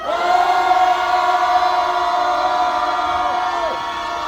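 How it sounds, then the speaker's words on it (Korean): Students at a rally in front of the Seoul Western District Court raise a sustained, loud collective shout, a droning roar of many voices held for several seconds before tapering slightly at the end. "대학생들 힘받으라고 그리고 구속영장 기각하라고 함성 다시 힘차게 치겠습니다"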